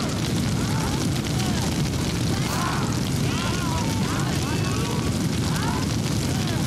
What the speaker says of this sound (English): But then you go downstairs and there's just a giant fire.